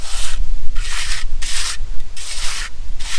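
Trowel scraping and spreading sand into the void beneath a paver driveway, five loud rhythmic gritty strokes in quick succession, close up with no talk.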